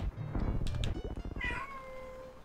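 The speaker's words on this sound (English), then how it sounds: "Oh! Kitty!" A cat gives one drawn-out, rising-then-falling meow up close, following a burst of clattering, thumping noise.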